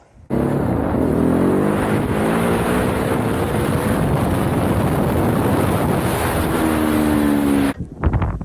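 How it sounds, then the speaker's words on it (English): Steady, heavy wind buffeting the microphone, a loud continuous rumble that cuts off abruptly near the end. "It's a little windy, but I hope you guys could hear me well"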